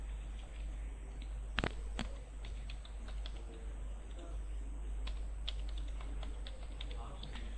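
Fingers type an employee ID on a computer keyboard, a run of soft, close key clicks with a couple of sharper taps, over a low steady hum.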